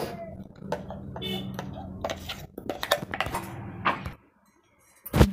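Ground lentil paste poured from a grinder jar into a bowl, with clattering and clinking of metal utensils and bowls, dense and close for about four seconds before a sudden silence and a final clank.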